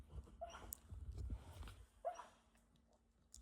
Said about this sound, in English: my dog is having a nightmare here